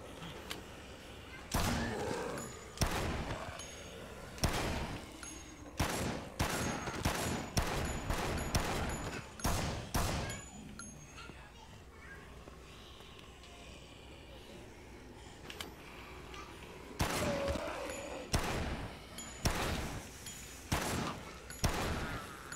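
Gunfire in the zombie game Dead Rising, coming in loud, rapid bursts of sharp shots, then a quieter stretch before another volley, with a voice talking in between.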